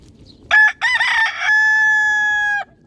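A rooster at a countryside house in the morning crows once, loud and close: a short opening note, then a broken middle, then a long drawn-out final note that cuts off sharply.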